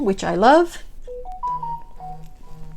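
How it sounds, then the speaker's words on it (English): A mobile phone rings with a short electronic ringtone melody of clear stepped tones over a low hum, heard just after a woman's brief remark. "Okay, that was my phone, sorry about that."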